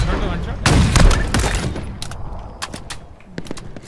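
Rapid bursts of gunfire ring out in the video game Halo Infinite, a loud close volley followed by scattered single shots, with a player talking over the action.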